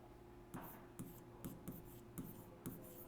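Pen strokes on paper during a Class 10 trigonometry lesson, quiet scratchy marks coming in short bursts about every half second over a steady low hum, with no one speaking.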